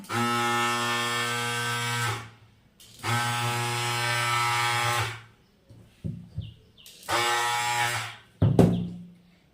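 Blouse patti fabric being cut in three long, steady buzzing bursts separated by short pauses, with a few sharp snips and handling noises in between, close up and with no talking.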